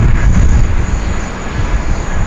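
UPS MD-11 freighter at Sydney Airport rumbles with a loud, low jet engine roar close by, mixed with wind buffeting on the microphone.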